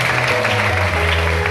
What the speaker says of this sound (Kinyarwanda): Nimukomere Imana amashyi